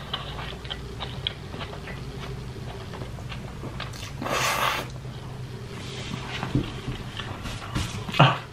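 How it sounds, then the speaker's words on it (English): Burger King food is bitten and chewed up close, with soft clicking mouth sounds, a louder crunchy burst midway and a sharp bite near the end. "Let me have another bite of this deliciousness."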